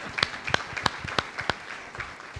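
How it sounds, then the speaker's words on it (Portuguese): Congregation applause in a Portuguese-language church service, a handful of sharp, distinct claps landing in a loose rhythm over a soft room murmur, thinning out toward the end. "Uma salva de palmas ao Espírito Santo"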